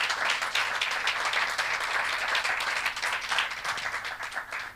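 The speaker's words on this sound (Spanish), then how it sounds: "denle un aplauso grande al Señor" Applause from a church congregation during a sermon, a dense, fairly loud wash of many hands clapping that holds steady throughout without any speech.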